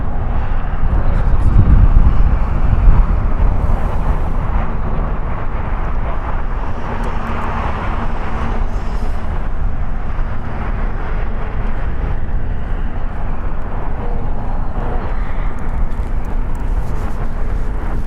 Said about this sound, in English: It's a Boeing 747 freighter, 13 years old.